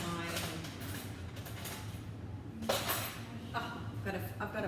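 Rapid clinking taps of a fork whisking an egg in a bowl, coming in short bursts with pauses between them, close and fairly quiet.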